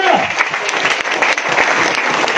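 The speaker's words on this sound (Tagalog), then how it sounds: "let us clap our hands to the Lord Jesus." A church congregation claps hands together during a Filipino evangelist's worship service, a loud, dense, continuous burst of applause filling the space with no voices standing out.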